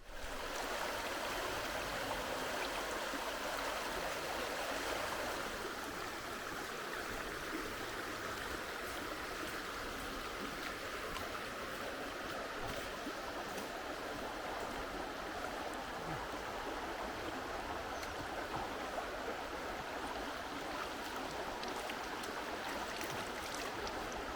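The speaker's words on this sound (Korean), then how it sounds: "개울가에 와가지고 너무나 고요하게 물소리 들으면서" A stream flows steadily on a quiet rewilding site in Portugal, with a continuous close rushing and babbling of water that stays unbroken throughout.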